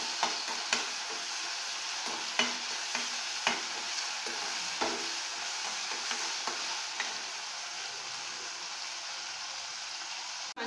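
Tomato and curry leaves fry in a pan of kurma, giving a steady bright sizzle broken by regular soft scraping taps as the mixture is stirred, close up with no talking.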